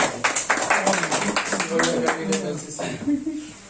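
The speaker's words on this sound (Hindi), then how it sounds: "जोरदार ताली" Applause for an Army recruitment candidate, a group clapping in bursts of sharp claps, with voices talking and calling out over and around the clapping.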